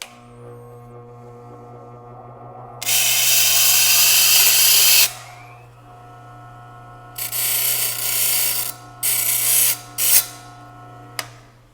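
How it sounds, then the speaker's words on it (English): A bench grinder grinds teeth off the bottom of a thin Japanese pull saw blade in a few loud, hissing bursts over a steady motor hum, the first long, the later ones short and choppy. "I go over to the grinder, I turn it on, and I grind off about an inch of the teeth at the very bottom"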